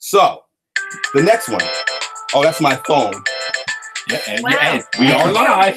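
A phone ringtone chimes repeatedly in bright tonal bursts, mixed under and between lively talk during a live call-in show.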